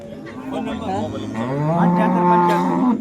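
Cows at the Modnimb cattle market moo loudly and close, a long drawn-out bovine call swelling in the middle and holding strong to the end, with faint market bustle behind.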